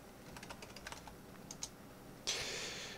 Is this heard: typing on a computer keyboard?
yes